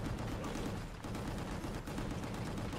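Continuous loud explosive barrage of rockets firing and detonating in a first-person shooter game, dense rumbling blasts with no pause across the whole stretch.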